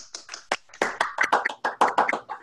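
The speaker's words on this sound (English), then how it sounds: "Everyone wants to unmute and give a round of applause to Jessie for giving our talk." A few participants in an online meeting clap for a speaker, a thin irregular run of individual hand claps and taps, close and dry, with no talking.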